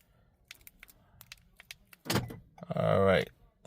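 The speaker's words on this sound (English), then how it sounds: "close the door" A Toyota RAV4 (2019) car door shuts with a single solid thump about midway through, followed by a brief tonal sound; quiet faint clicks and handling noises come before it.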